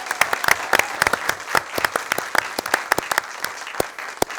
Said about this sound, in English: I'm just going to clap that up again for you.